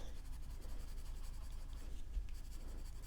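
Crayola colored pencils coloring on paper, a soft continuous scratchy rubbing in quick back-and-forth strokes, faint and close, with a small click at the end.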